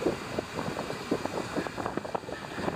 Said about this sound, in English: It's really quite windy right now.